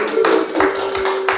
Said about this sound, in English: a resounding hand of applause